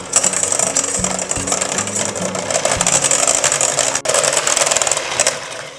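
Egg yolks, three of them, being whipped in a bowl with an electric beater, a close, loud, continuous whirring buzz with rattling as the beaters knock against the bowl and a brief dip midway.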